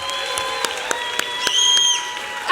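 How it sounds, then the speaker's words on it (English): An audience at a church vacation Bible school program applauds the child actors in a short burst of clapping with a few cheers, under a tonal background. "Give my actors a round of applause."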